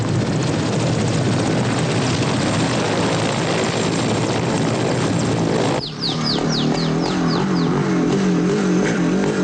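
Helicopter of a search group droning loudly and steadily throughout, a broad continuous rotor and engine roar with no voices, shifting in tone partway through as if passing closer.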